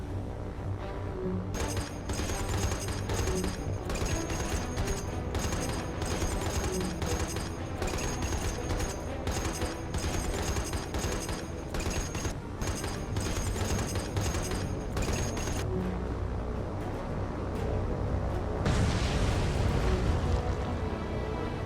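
Ships under air attack by fighters and torpedo bombers in a naval warfare game: dense, loud bursts of anti-aircraft fire and rapid gunfire pound continuously over a rumbling roar, with a heavier explosion near the end.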